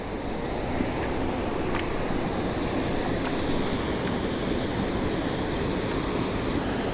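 Steady rushing water roars continuously from a waterfall in snow-covered Ohio, a broad wash of noise with occasional wind buffeting the microphone.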